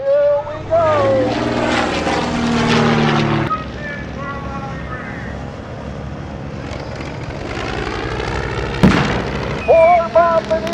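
A biplane's propeller engine roars and swells at an air show as the aircraft dives, with a loud ground explosion boom near the end and a crowd and announcer audible.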